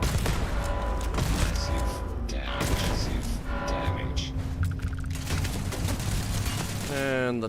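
Turret gunfire in the video game Starfield, a dense sustained barrage of booming shots and mechanical clatter running continuously, with a voice talking over it.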